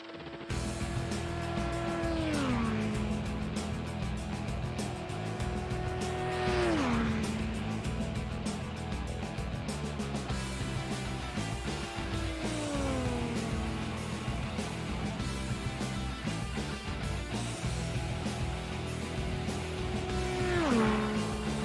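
A simulated IndyCar roars through a qualifying run on the Texas Motor Speedway oval, engine holding a steady high whine with pitch sweeps as the car passes. It sounds loud and continuous, with no voices.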